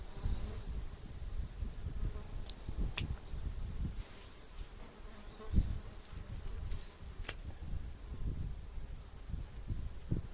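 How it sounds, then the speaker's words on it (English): Flies buzz around a farm in summer, a close, wavering drone that rises and falls as they pass, over low rumbling wind and rustling. "if the wind picks up, it's gonna be better. Blow the flies away."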